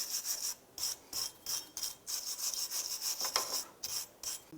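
Rust being scrubbed off the hub face of a 2001-2007 Ford Escape rear brake, a faint rapid back-and-forth rasping in short regular strokes, close up and alone.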